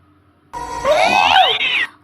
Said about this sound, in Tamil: பூனை வேற குறுக்க போதே